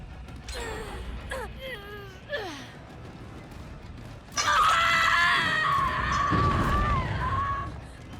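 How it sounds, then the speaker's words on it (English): A Dead by Daylight survivor screams in a high, wavering voice, starting with short broken cries and ending in a loud, sustained scream over game ambience. "Behavior has done amazing with their screaming survivors recently."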